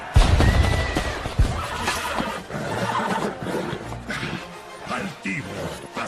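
A white horse in an animated film about the Spanish conquest of the New World gives a loud whinny near the start, followed by busy hoofbeats and crashing action sounds under a dense, cluttered soundtrack.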